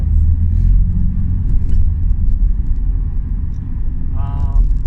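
Car engine running loud with its muffler removed, a constant deep, throaty rumble droning on throughout, close and strong, with a brief higher tone near the end.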